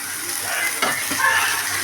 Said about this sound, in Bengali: ডালটাকে সুন্দর করে ভেজে নিব।